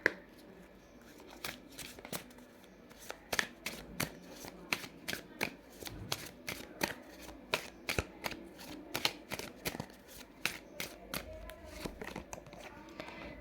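Oracle card deck shuffled by hand, a long run of rapid, papery riffling slaps and flutters in a steady uneven rhythm, close and clear with faint background sound.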